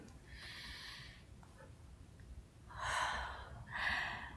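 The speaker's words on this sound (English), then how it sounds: "She sniffs it, then breathes it heavily." A woman on a theatre stage sniffs air released from an uncapped tube, then draws in two heavy, audible breaths, breathy inhalations that stand out clearly from quiet room tone.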